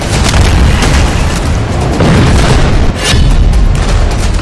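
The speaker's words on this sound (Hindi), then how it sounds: "एक मिसाइल धमाका" A loud missile explosion booms and rumbles continuously, a dense roaring blast with a brief dip before surging again, close and overwhelming with no speech.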